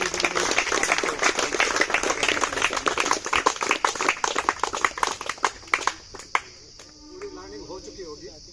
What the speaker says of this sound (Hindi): एक जोरदार से ताली उन सभी के लिए